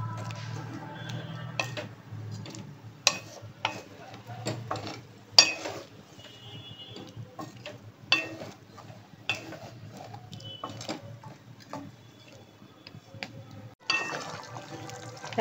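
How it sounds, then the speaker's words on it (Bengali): A spoon stirs milk in a cooking pot as it heats toward the boil, giving quiet, irregular clinks and taps against the metal, with faint liquid movement between them and no talk. "যতক্ষণ না ফুটবে ততক্ষণ আমি নেড়ে যাচ্ছি দুধটাকে।"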